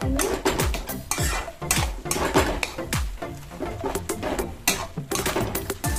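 Spoon scraping and clinking against a pot while pumpkin and peanut paste curry is stirred, a steady run of close metallic strokes with no talking.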